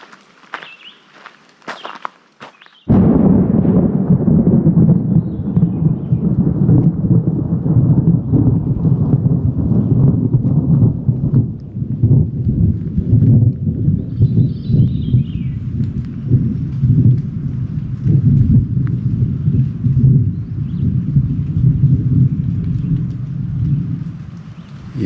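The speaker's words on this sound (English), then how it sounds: "That would be thunder." Thunder from a thunderstorm on the Black Forest Trail rolls in after a few quiet seconds, a loud, deep, sustained rumble lasting more than twenty seconds with faint rustling and footsteps underneath.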